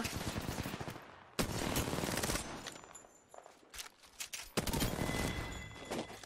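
Apex Legends gunfire: rapid automatic bursts crackle in clusters with short gaps between them, fairly faint overall, with no voices.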